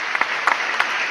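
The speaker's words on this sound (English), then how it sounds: "Ladies and gentlemen, round of applause." A short burst of applause, with a few distinct claps standing out above a steady patter of many hands.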